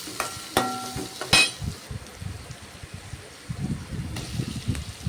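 Translucent onions and finely chopped carrot sizzle in a pan for poori masala, with a few sharp scrapes and clinks of stirring early on, then a softer bubbling fry underneath.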